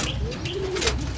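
Pigeons cooing near a loft where the birds are kept and conditioned, a few soft low coos rising over a steady background with faint chirps, no talk.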